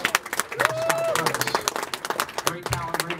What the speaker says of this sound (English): Big hand of applause, folks